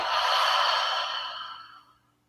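A single deep exhale through an open mouth during a yoga breathing exercise, a soft breathy rush that swells, then tapers away over about two seconds, close and alone.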